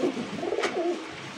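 A homing pigeon coos softly in a few low, throaty rolling notes, close by with a faint background hum.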